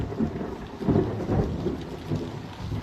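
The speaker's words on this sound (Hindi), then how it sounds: "इतना बारिश हो रहा है, इतना बारिश आप सब देख रहे हैं।" Heavy monsoon rain pours steadily in Bihar, with deep rumbling thunder rolling underneath; the downpour is loud and continuous with no voices.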